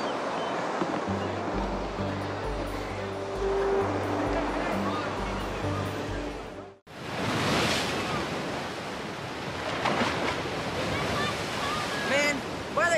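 Ocean surf at a beach rumbles and hisses steadily with wind, loud and close, with a brief cut midway and someone speaking over it.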